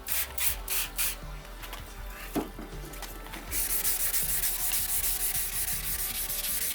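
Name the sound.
wet sanding a car headlight with 1500 grit sandpaper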